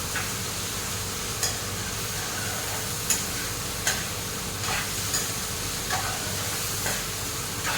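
Bitter gourd slices frying in a pan, a constant close sizzle broken by regular scraping stirs roughly every second, with no talk.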